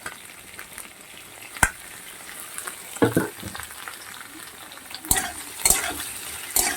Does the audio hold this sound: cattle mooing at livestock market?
no